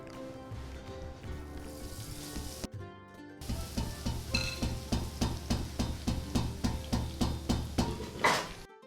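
Bundi batter for motichoor ladoo dropped into hot ghee, a continuous frying sizzle joined by a regular series of sharp metallic taps of a ladle or spoon against the pan, building toward the end.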